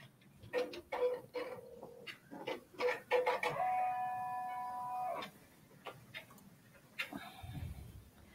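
A Brother PR1055X embroidery machine stitches with a faint, rhythmic mechanical ticking and a brief sustained whirring hum in the middle, heard indoors at low level.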